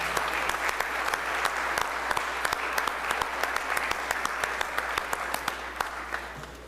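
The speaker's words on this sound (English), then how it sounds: "So let's all give them a big round of applause." Applause fills the Mississippi state House chamber for a championship soccer team and coaches, a steady clapping crowd with many distinct sharp individual claps standing out over a low room hum, slowly tapering.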